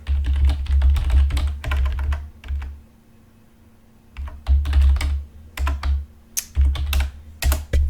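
Fast typing on a computer keyboard comes in rapid, close bursts of clatter, with a pause of about a second in the middle before the keystrokes pick up again.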